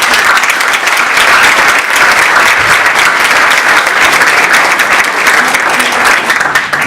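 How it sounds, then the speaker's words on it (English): Sustained applause from a crowd at a graduation ceremony, steady clapping filling the whole stretch at a loud, even level without pause. "So please let's give them a round of applause."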